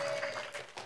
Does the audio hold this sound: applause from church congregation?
yes